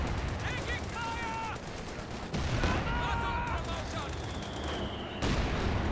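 Gunfire and explosions in the World War II strategy game Company of Heroes 2, dense crackling battle noise with bursts of shots and booms shifting in intensity, layered with other game sounds.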